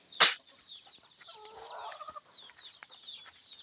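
Palawan native chickens of a large breed, kept on a farm with hens and chicks, give soft, brief clucks near a quiet yard, after one sharp knock near the start.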